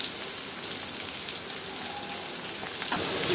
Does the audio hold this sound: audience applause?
no